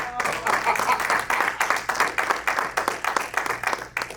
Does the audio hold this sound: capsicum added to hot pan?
no